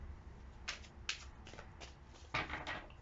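Tarot cards being shuffled by hand, with several short, crisp riffling bursts and soft flaps spaced out over a low, quiet background, close and fairly faint.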